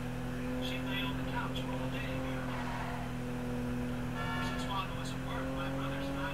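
A fast car engine hums steadily through a chase in GTA, its tone rising and falling as the vehicle races ahead, with game noise and talk in the background.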